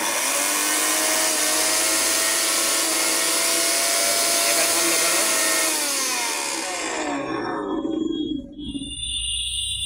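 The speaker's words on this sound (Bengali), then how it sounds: "আমরা এখন ব্লেন্ডারটি একটু অন করে দেখাচ্ছি।" Walton WBL-15G312 1200-watt mixer grinder blender runs at a loud, high, steady whine for several seconds, then winds down and stops near the end, leaving quiet.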